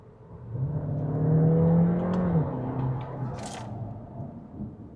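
VW Golf eHybrid accelerating under hybrid power, a smooth rising engine and motor whir that swells then eases, moderately loud and heard alone without talk.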